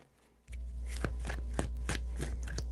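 Tarot cards being shuffled by hand, a run of crisp riffling and slapping bursts close by, about eight quick strokes after a silent start, with a low steady hum beneath.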